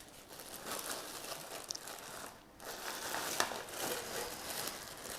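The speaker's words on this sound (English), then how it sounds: "bash them into crumbs quite fine with a rolling pin" Digestive biscuits are crushed in a plastic bag, giving continuous crinkling and crunching with a brief pause midway, close and fairly loud, with no talking.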